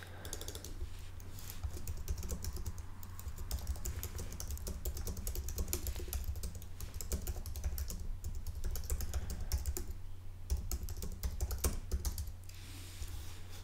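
Typing on a computer keyboard, a dense, continuous run of quick close key clicks lasting throughout, with a brief pause near the end.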